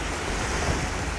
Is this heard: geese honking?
no